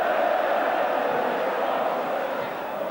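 Football crowd at Kenilworth Road during a Luton Town League Cup semi-final against Oxford United, a dense, steady roar of many voices filling the stadium without a break.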